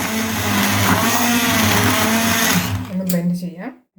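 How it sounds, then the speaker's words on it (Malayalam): A blender whirs loudly and steadily for about three seconds while pureeing tomatoes with hot water for tomato soup, then winds down and cuts off near the end. "ഒന്ന് ബ്ലെൻഡ് ചെയ്യാം."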